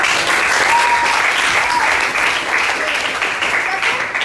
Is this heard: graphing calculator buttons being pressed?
no